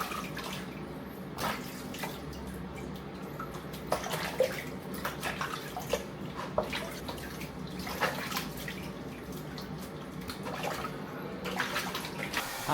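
A pet being bathed in a basin of warm water: quiet, irregular splashes, sloshing and drips close by, with brief louder splash bursts and no talking.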